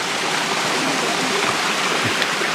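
A mountain river, the Sungai Yahe below Gunung Binaya, rushes loudly and steadily nearby. The water keeps up a dense, unbroken roar through the whole clip, and faint voices may sit underneath it.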